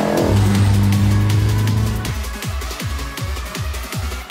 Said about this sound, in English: This is a 1991 Mitsubishi Galant VR-4.